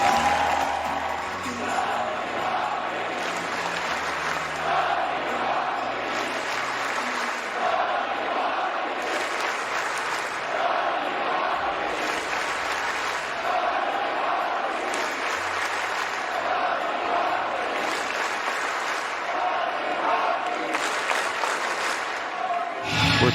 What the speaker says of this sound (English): we ask you to stand if you are able and cheer as we raise a banner in his memory